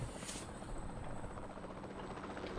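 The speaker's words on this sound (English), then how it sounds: "We'll start by tranquilizing one of the dinosaurs from the helicopter" A steady helicopter rotor whir drones continuously in the video game Jurassic World Evolution 2, a constant mid-distance chopping hum with no talk over it.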